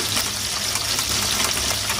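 Shredded cabbage fries in an old, worn wok that makes it stick, giving a close, continuous crackling sizzle with faint scraping, no talk.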